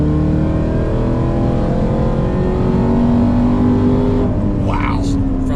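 A 1,000 hp Hennessey-tuned Cadillac CT5 Blackwing accelerating hard in fourth gear from 3,500 rpm, engine drone rising steadily in pitch, loud and close inside the car, with a brief extra noise near the end.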